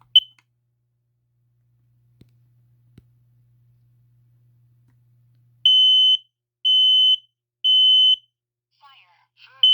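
A smoke alarm from a collection of alarms gives a short chirp, then after near silence sounds three loud, evenly spaced shrill beeps, with another beep starting at the end.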